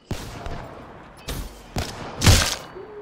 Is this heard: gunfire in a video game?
yes